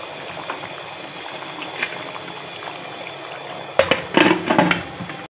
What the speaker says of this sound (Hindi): उसी में ये हल्की आग पर गल रहे हैं